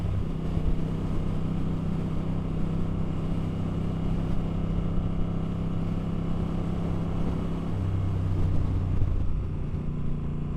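Low, steady engine drone of a Moto Guzzi V7 III Rough motorcycle cruising, with a deep exhaust rumble that swells slightly toward the end; no talking.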